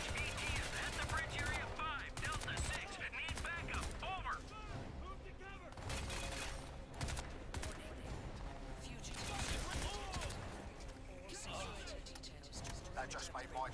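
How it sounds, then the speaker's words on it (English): Reflex gun firing in Crysis 3, rapid bursts of gunfire layered with game sounds and someone talking, dense and fairly close throughout. "There's this reflex gun."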